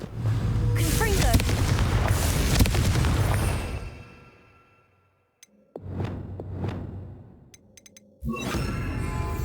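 A Confringo spell in Hogwarts Legacy goes off as a loud, booming fiery explosion with a long decaying rumble. After a brief silence, further sharp impacts and bursts follow, mixed with game noise.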